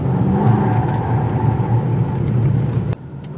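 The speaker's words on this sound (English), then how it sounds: "Let's see if we can spin it out. Lots of wheel spin, not surprising." A 2018 Mitsubishi Outlander Sport spins its wheels, giving a loud, steady engine rumble and whir that cuts off abruptly near the end, close to the car, no talking.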